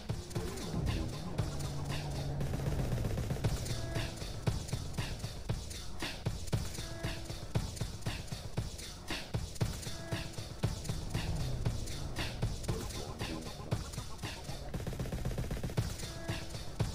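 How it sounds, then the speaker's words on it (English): Rapid bursts of aircraft gunfire in the aerial combat game SSS3, crackling in dense repeated volleys over a steady engine drone throughout. "There we go, starting to open up with the guns."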